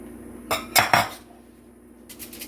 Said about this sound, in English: scrape off the excess of the spoon